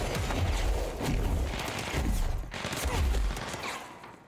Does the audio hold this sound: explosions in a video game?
yes